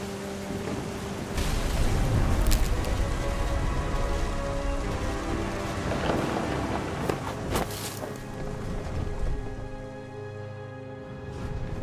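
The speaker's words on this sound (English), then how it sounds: "The thunder sounded much too close and full of angry power" Steady heavy rain pours throughout a stormy scene in the video game What Remains of Edith Finch, a loud dense wash with brief crackling bursts hinting at thunder.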